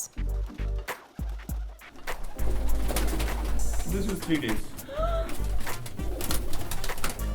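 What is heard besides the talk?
pigeons cooing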